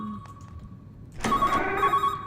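Telephone in the horror game Calling starts ringing partway through, a loud bright electronic trill in repeated pulses after a quieter stretch with a faint tone.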